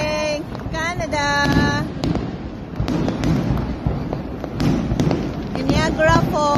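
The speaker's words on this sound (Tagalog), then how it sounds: "Fireworks. Victoria Day." Victoria Day fireworks at Niagara Falls, Canada, a dense run of sharp crackling pops and booms with whistling rises, under a noisy cheering crowd, voices and some wind buffeting on the microphone.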